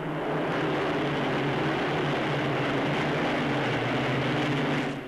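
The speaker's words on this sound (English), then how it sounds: "Now Valettas fly over the airfield. Lincolns of Bomber Command." Valetta transports and Lincoln bombers of Bomber Command flying over an airfield in a coronation air display: a loud, continuous, broad engine roar that stays steady throughout, with no voices.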